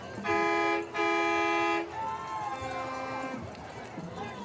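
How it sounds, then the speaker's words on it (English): Two loud, blaring air horn blasts in quick succession, followed by crowd noise and talk at a high school football game in a stadium. "we got the air horn here going off"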